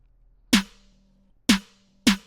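Three stacked snare drum samples play together with reverb, one giving body and another the bright top. Three punchy hits land in sequence, each with a crisp attack, a short tonal ring and a decaying wash.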